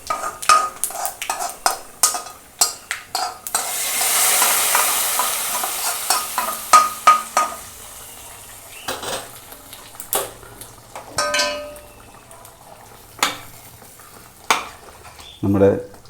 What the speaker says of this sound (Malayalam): ഇനി നമുക്കിത് നമ്മുടെ കറിയിലേക്ക് ഒഴിക്കാം.